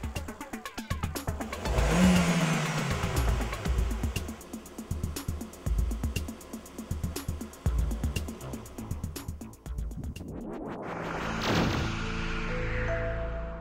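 A Ford EcoSport 1.6 16V engine revved repeatedly in quick bursts, each rising and falling, with clicking and rattling throughout, then one long climbing rev near the end, close and loud with no talking.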